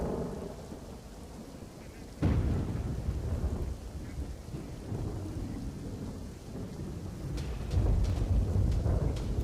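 Heavy monsoon rain pours down during a downpour in Gujarat, a dense steady hiss with a sudden loud thunderclap and rolling rumble that surges again near the end, no voices.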